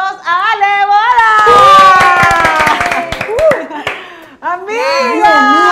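On a family show set, people cheer and clap to welcome an arriving guest, with excited high voices and a child chattering over a burst of clapping that fades before more talk resumes.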